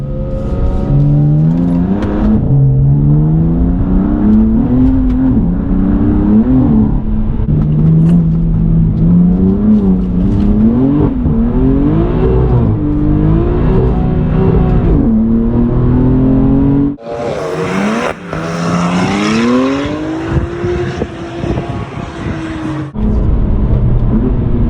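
A BMW F80 M3 fitted with Outcast 2-into-1 downpipes revs loudly and repeatedly, its engine note rising and falling through a series of close, sustained blips, with a brief break before a final strong rev.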